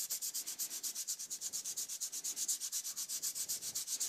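Fine-grit sandpaper, about 300 grit, rubbed back and forth over a surface in quick, even strokes, a close, rhythmic scratchy hiss with roughly six strokes per second and no voices.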